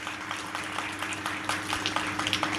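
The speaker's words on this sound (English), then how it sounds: "kindly clap for them because they have never been acknowledged" An audience applauds during a political speech in a hall, with steady, moderately distant clapping under a low hum and no talking.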